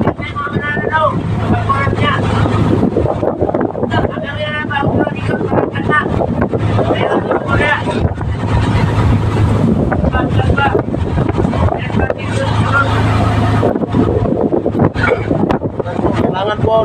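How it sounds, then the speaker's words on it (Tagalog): Strong wind buffets a squid fishing boat at sea at night, with waves sloshing against it. The wind roars loud and constant across the microphone, and voices talk over the gusting noise. "Malakas po yung hangin at saka alon"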